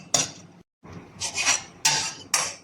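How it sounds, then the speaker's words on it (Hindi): Raisins fry in a metal pan while a utensil stirs them, giving a few close, sharp metallic clinks and scrapes in short bursts with a brief silent gap between them. "इसलिए मैं किशमिश को अलग से फ्राई कर रही हूँ।"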